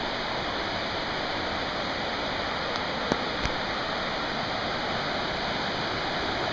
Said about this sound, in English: Beautiful, beautiful rapids.